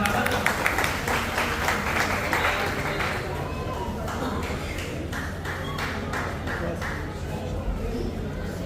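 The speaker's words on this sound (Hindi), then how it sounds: "एक बार जोरदार तालियों से स्वागत।" Audience clapping at a community event in Hasanpur, a busy, loud round of applause that thins slightly toward the end, with crowd chatter and voices underneath.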